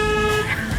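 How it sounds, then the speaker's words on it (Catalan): A car horn sounds a steady tone from a nearby vehicle on a city street in Palma, with traffic noise around it. "Anem, que t'estan pitant."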